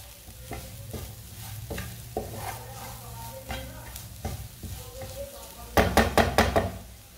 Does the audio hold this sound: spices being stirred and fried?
yes